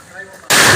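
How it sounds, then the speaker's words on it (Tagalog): A single loud gunshot at a police firing range in Fort Bonifacio, Taguig, cracking out sharply and close after a quieter lead-in, its blast filling the space for the rest of the moment. "Tingnan natin yung putok ng ating kasama tayo."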